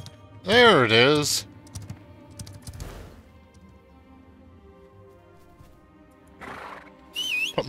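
A horse in an online fantasy role-playing video game gives one loud, rising and falling whinny, followed by quiet clicking of keyboard keys and a brief bright tone at the end.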